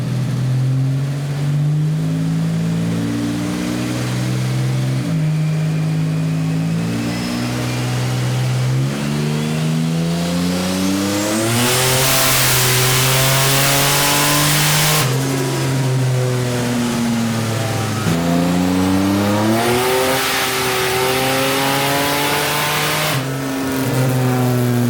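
A Buick Grand National's engine runs loud and close, climbing through repeated revs and gear-like pitch sweeps, with surges of roaring intake and exhaust over a strong steady idle-to-high drone.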